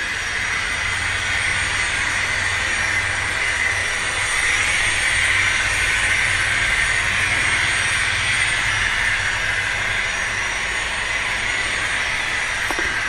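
Two GTEL 4500 turbine model locomotives haul a heavy model train around a layout loop, giving off a continuous loud hiss and whine with a low rumble underneath, steady from start to finish.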